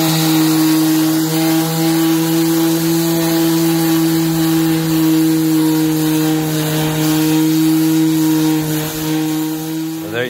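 A power sander grinds down a raised hump on a teak door with a steady, close motorized hum and buzz that runs unbroken from start to finish.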